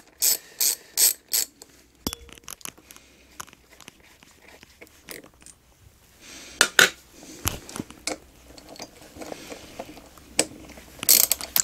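Ratchet wrench undoing the two rear brake caliper bolts on a Yamaha Fazer 600 motorcycle: bursts of quick clicking ratchet strokes, close and fairly loud, with pauses and a few metallic knocks between.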